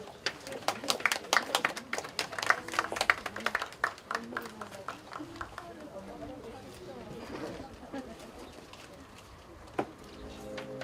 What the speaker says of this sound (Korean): 다시 한번 따뜻한 박수로 맞아주시기 바랍니다